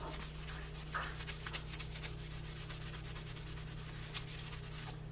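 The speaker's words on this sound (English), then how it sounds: "I just put a little bit on the front and wipe off the excess." Cloth wiping excess top coat finish off the front of a leather phone belt pouch, a steady soft rubbing over a constant low hum, with no talking.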